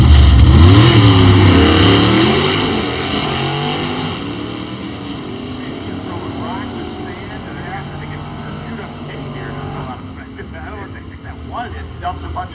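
At Hot Rod Drag Week 2025, a drag race car's engine revs hard at launch, starting as a loud, rising roar that fades into a steady drone as the car pulls away, while a commentator talks over it.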